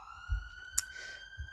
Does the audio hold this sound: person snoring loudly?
no